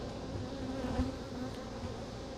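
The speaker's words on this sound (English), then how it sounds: "And a bunch of bees came out like I was knocking on their door." Honey bees buzzing around an opened beehive: a dense, steady hum of many insects close by, continuous with no talking.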